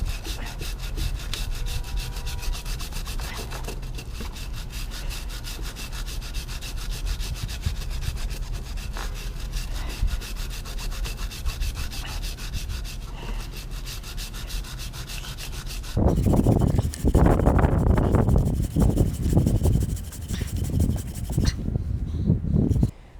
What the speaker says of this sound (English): Use a chain brush or soft brush to break up and dislodge dirt, grease, oil buildup,